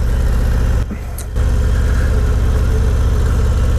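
A Harley-Davidson Road Glide ST motorcycle with a 117 cubic inch engine runs steadily and loudly close by, a continuous deep rumbling drone with a brief dip partway through.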